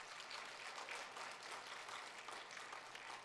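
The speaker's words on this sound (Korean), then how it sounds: "우리 샬롬 성가대 박수로 축복하십시다." A church congregation claps for the Shalom choir during a Sunday service, a steady, dense wash of applause held at an even level throughout, fairly distant and reverberant.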